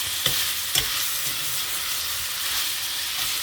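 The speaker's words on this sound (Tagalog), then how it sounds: "igisa na rin natin yung ating minced na beef and" Minced beef and pork sautéing in a pan for menudo, a steady bright sizzle throughout with a couple of brief spatula stirs near the start, close and alone without talk.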